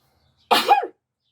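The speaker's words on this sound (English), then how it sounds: "I'm going to sneeze again." A single short, sudden sneeze, close by, in otherwise silent surroundings.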